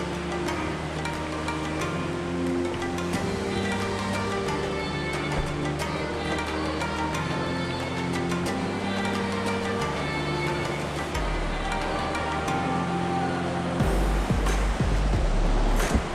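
A stream runs through rocks on a trail near a hidden waterfall, a continuous broad wash of flowing water with scattered clicks and rustles close by, growing louder and rougher toward the end.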